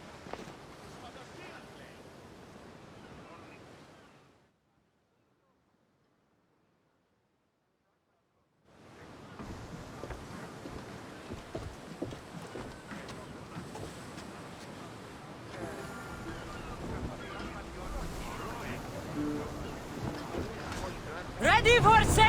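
A sailing ship cuts through ocean waves in Assassin's Creed Odyssey, with steady surf and wind rush that drops out for a few seconds, then returns and grows louder toward the end, under talk.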